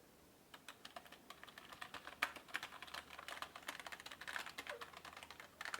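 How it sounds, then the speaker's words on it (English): Typing on a MARVO K607 membrane gaming keyboard, a quick irregular run of soft, close-up key clicks that grows busier and louder toward the end, with no talking over it. "not a bad entry-level gaming keyboard from EveTech"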